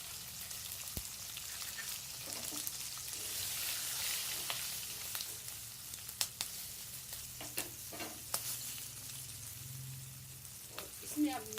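Chili and turmeric powder sizzling in oil in a frying pan, a soft continuous crackle and hiss with light stirring and scraping clicks, faint and close.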